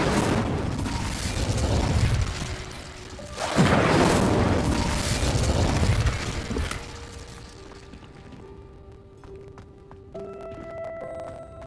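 In the Hogwarts game, an Incendio fire spell goes off with a heavy whooshing, crackling burst that swells twice over several seconds, then fades into quieter ambience with faint tones.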